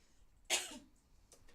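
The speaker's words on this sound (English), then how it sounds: "I'll just have a cough." A cricket commentator gives a single sharp cough during a live women's match broadcast between Central Sparks and South East Stars, followed by a brief throat-clearing rasp.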